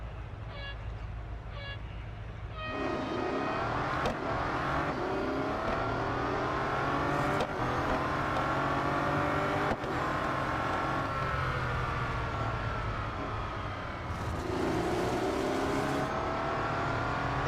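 A Bugatti Centodieci races around the Silverstone Grand Prix circuit in the mobile game Real Racing 3. A high engine whine climbs and shifts through the gears, with a few short beeps before it and no talking.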